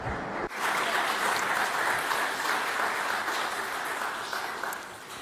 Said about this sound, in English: Applause for Miss Sairita Kasar.